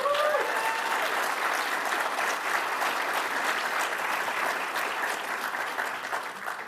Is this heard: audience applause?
yes